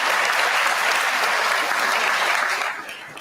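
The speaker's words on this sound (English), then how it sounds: "They just applaud like a bunch of seals." An audience at an Oxford debate applauds in a dense, even wash of clapping that stays strong and then thins out toward the end.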